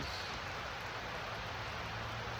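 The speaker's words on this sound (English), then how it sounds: "This is the kind of rain that's going to kick a cycle too." First rain of the season in Oregon falls as a steady, dense hiss of drops, close and constant without pauses or voices.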